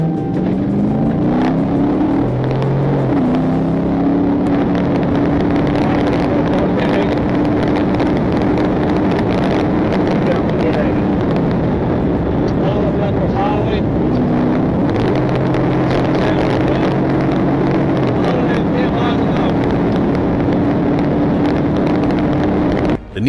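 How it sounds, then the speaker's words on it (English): Nissan car speeding at around 110 mph on a road during a police pursuit: continuous loud engine roar with shifting tonal whine, heavy wind and road rush throughout, no voices. "The Nissan raced at 110 mph in a 45 mph zone"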